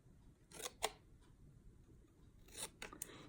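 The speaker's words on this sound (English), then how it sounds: "Go ahead and cut our banners." Scissors cutting paper banners for handmade thank-you cards, with a few quiet, close snips in two quick pairs separated by a short pause.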